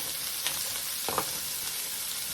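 Celery and other vegetables cook in a pot with a steady soft sizzle, and a couple of brief stirring scrapes stand out near the middle.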